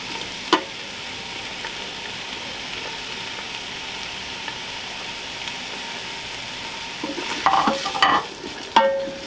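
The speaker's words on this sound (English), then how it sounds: "I'm going to go around to saute on high and on. We're going to go in with the onion and the garlic." Onion and garlic sautéing on high in a Ninja Foodi, a faint steady sizzle that grows louder near the end with a few stirring clinks and scrapes.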